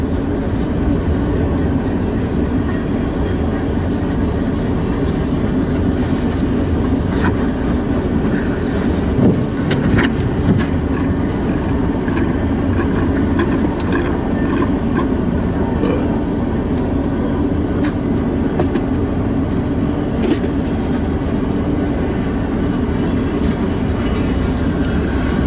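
A BNSF freight train hauling box cars rolls steadily past close by, a loud continuous rumble with rhythmic wheel clatter and rattling that stays constant throughout.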